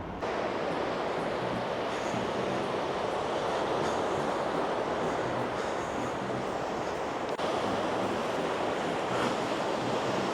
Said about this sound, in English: stunning coast, the sea of Blackpool, absolutely gorgeous